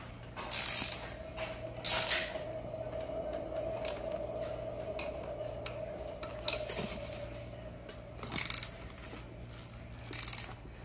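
A ratchet tightens a seat post bolt on an add-on seat assembly for an EVOLV Tour 2.0 or Tour XL, several bursts of quick clicking sounding close against a faint steady hum, with short pauses between.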